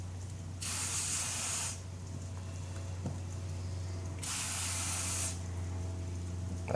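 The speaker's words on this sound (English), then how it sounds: "Spray as much as you think so, just don't oversaturate it." Two short bursts of aerosol lubricant hiss onto a motorcycle chain, each about a second long and separated by a pause, close and fairly quiet over a low steady hum.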